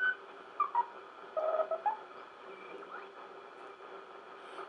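A CW Morse station on a Hammarlund HQ-100 receiver with the BFO adjusted: a few short whistling tone beeps in the first two seconds, faint over steady receiver hiss.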